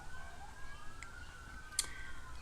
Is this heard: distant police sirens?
yes